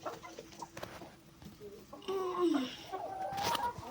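Chickens cluck and squawk nearby, with a louder burst of fowl calls in the second half over light background noise.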